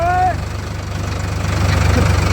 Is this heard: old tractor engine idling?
yes